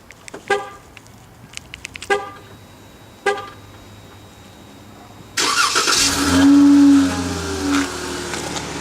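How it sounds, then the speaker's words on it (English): A few sharp clicks, then a 2015 Dodge Charger SXT engine cranks and fires up loudly, settling into a rumbling exhaust idle with a brief rev. "Man, that exhaust is nice."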